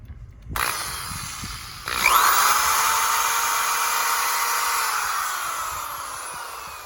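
A power drill runs off a Renogy 1000-watt inverter in a 2017 GMC Canyon setup. A brief first burst comes, then the motor spins up and holds a steady whine that sags slightly in pitch, close and loud, with no talk.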